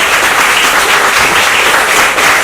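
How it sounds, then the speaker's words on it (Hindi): A seated audience at a Hindi poetry event in an art gallery gives sustained, loud, close applause, dense and even throughout with no break. "तो इतनी कमजोर तालियों के साथ"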